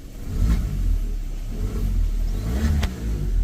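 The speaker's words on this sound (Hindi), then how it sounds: "ये देखो एक्सीलेटर ले रही है" A Maruti Suzuki Baleno petrol car with a check engine light and a P0420 fault, pickup problem and acceleration drop revs under the accelerator, a loud close rumbling engine drone that swells and eases unevenly throughout.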